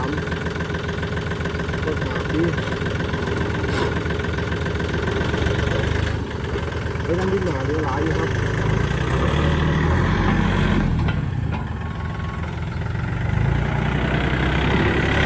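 A used 39-horsepower Yanmar tractor engine idles steadily with a low, even rumble and slight vibration, close by and continuous, while someone talks over it.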